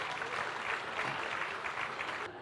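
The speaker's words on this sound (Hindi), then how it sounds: "इस्तकबाल करेंगे ज़ोरदार तालियों" Audience applause at a poetry gathering welcoming a classical ghazal poet to the stage, a steady wash of clapping from a large crowd that holds evenly and cuts off at the end.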